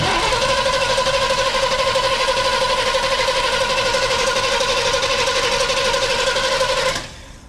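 A 1969 Chevrolet Impala engine, running again after sitting for 20 years, holds a loud, steady, close running note with a constant tone, then cuts off abruptly near the end.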